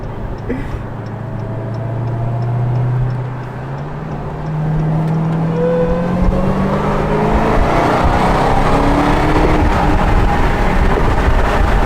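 SRT Hellcat Redeye with a 797 hp engine pulling hard from fourth gear, a loud, steady engine roar with rising pitch that stays close and continuous throughout.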